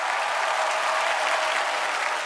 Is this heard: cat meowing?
no